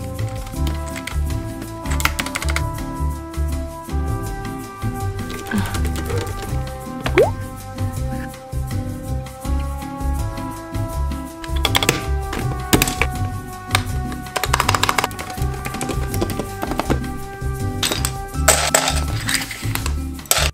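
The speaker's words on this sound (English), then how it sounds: "we're going to be switching out the keycaps on my white keyboard with these beautiful new pretty green ones" Plastic matcha-green keycaps clicking and clattering as they are swapped onto a white keyboard, with scattered light taps and knocks over steady background music.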